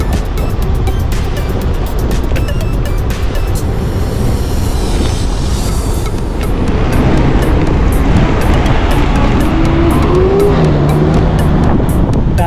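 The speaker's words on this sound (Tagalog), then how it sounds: "Dami pa rin palang dumadaan ng mga sasakyan dito." Cars rumble past on a mountain highway in Atok, Benguet, with a steady broadband roar and several passes swelling loudly nearby over continuous road and wind noise.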